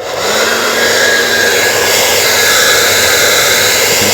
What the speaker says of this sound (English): let's turn on the hairdryer now